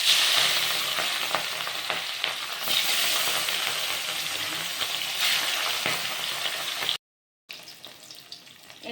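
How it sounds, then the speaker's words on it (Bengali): Katla fish pieces fry in hot oil in a wok, giving a loud, dense, continuous sizzle and crackle with small pops, broken by one brief gap near the end. "এখন আমি এক এক করে মাছটা ভেজে নিব।"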